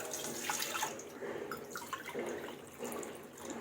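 Water poured and measured into a large cooking pot for wheat chik papad, dripping and splashing steadily, close and moderately loud with no talking.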